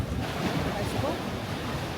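Ocean surf and gusting wind at an Australian shoreline, a steady broadband roar of breaking waves with wind buffeting the microphone throughout, close and fairly loud with no clear break.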